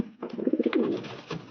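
Racing pigeons in a loft give soft, close, rolling coos in a short burst of repeated pulses, with light rustling behind them.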